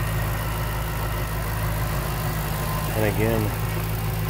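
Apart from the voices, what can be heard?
Ford Mustang Shelby GT500 supercharged 5.4 V8 engine idling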